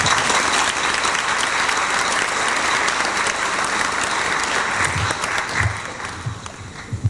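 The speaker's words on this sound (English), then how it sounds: "one more big applause for His Grace Bishop Belo" Sustained audience applause for a visiting bishop at a university event, a dense wash of clapping that thins toward the end, leaving a few scattered claps.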